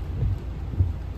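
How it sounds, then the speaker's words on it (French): Rain falling steadily outdoors at a motorcycle event in Gouy-en-Artois, with low rumbling patter and a couple of heavier soft thuds in a short stretch, no voices. "La galère, il pleut."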